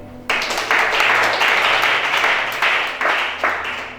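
Audience applause at a church gathering, a dense wash of clapping that begins abruptly after a brief pause and swells in repeated waves, loud and sustained throughout.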